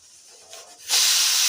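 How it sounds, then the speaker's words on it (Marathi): A pressure cooker lets out steam, building from a soft hiss into a loud, steady, close rush of release that holds for the last half second. "आता कुकरची शिटी पण झाले"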